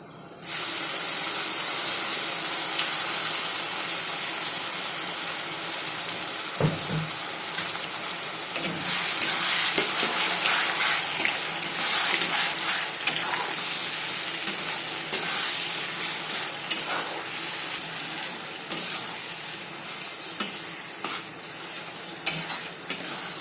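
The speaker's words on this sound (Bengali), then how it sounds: "পেঁয়াজটা হালকা হালকা ফ্রাই হয়ে গেছে।" Onions frying in a pan for chicken curry, a steady hissing sizzle with occasional stirring scrapes and clicks growing more frequent near the end, close and alone.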